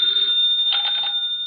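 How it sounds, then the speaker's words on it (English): A telephone bell rings in a quiet office, a loud bright repeating trill with a second burst after a short pause, no voices over it. "the ringing of that phone bell means mystery,"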